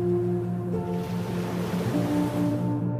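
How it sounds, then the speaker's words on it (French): Ocean waves break against ice in a continuous wash of surf, with a steady low drone beneath and gentle swells in loudness, no voices. "les vagues se bordaient se brisaient contre la glace, créant un étrange son de chuchotement"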